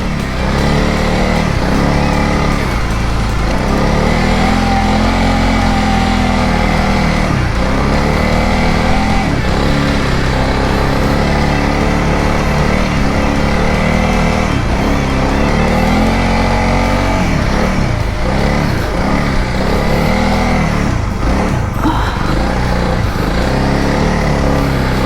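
Motorbikes on a family ride labour through thick, deep beach sand at Rainbow Beach, their engines droning loudly and steadily throughout with constant revving and strain, no voices heard.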